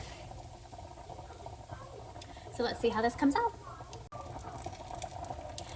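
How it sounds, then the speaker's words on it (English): Pork cutlets fry in a pan with a steady low sizzle and faint bubbling that runs throughout, while a person talks over it midway. "we're supposed to be frying these for about 3 minutes on each side"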